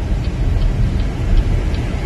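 Road traffic on a residential street passes as a steady, loud low rumble of vehicles close by, with no talking over it.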